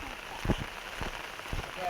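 Rain falls steadily near a river, a constant soft patter with a few louder drops standing out, heard close against a wash of background noise.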